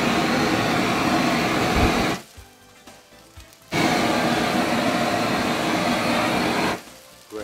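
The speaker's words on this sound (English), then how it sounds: "I think it needs a torch." Kitchen torch flame roars steadily over a tuna melt, a loud continuous blowing hiss that stops, returns after a pause and cuts out again near the end.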